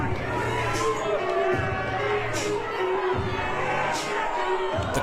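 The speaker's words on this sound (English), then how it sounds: "The crowd showing their appreciation." A championship wrestling crowd at an SEC Championship match cheering and applauding for the winner, a steady wash of noise with shouts rising from it, under the commentators' voices.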